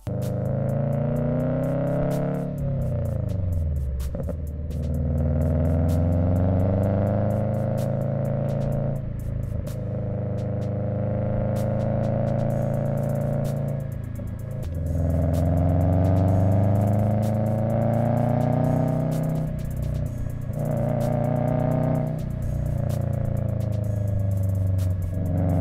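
Subaru Legacy GT wagon engine running and revving, deep droning tone rising and falling in several long sweeping revs, steady and close with no talking.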